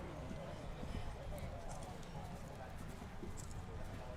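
Faint hoofbeats from a horse cantering through an international showjumping round in the south of England, a soft rhythmic clip-clop under the low hum of the arena that stays distant and even throughout.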